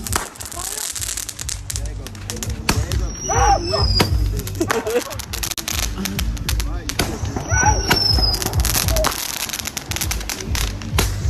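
Fireworks and firecrackers burst on New Year's Eve in a dense, continuous crackle with popping bangs and a couple of whistling rockets, while people talk and shout nearby.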